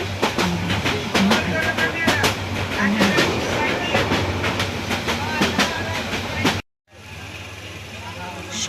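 Kishoreganj Express intercity train runs between Dhaka and Kishoreganj, heard from aboard as steady rumbling with rhythmic wheel clicks over rail joints and announcements over it, briefly dropping out before the rumble resumes.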